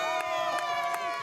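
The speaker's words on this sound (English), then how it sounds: "it's the cheers in the crowd that make every moment worthwhile" A crowd cheers and shouts at an adaptive soccer game, a sustained dense roar of voices with a few louder bursts, close and continuous throughout.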